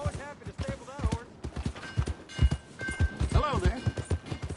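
Horse hooves clip-clop steadily on the ground in Red Dead Redemption 2, a close, rhythmic series of hoof strikes, with a whinnying horse and some voices mixed in.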